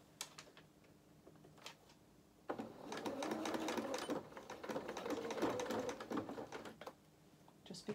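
Sewing machine stitching the shoulder seam of a doll's dress, a quiet rapid ticking and whirring that begins after a few faint clicks, runs steadily for several seconds, then stops with a few more light taps.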